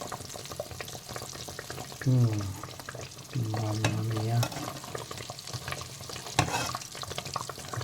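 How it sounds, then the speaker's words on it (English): Mushrooms and cheese coated in vegetable rice deep frying slowly in hot oil, a continuous close sizzle with bubbling, while a person speaks briefly. "Okay, they're frying slowly, nicely."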